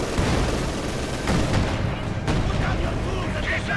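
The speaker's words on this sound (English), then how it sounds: "the field gun is remanned. And he's barraging the pack." Field gun artillery barrage in a war strategy video game, a dense run of booming shots and rumbling blasts with a commentator talking over the battle.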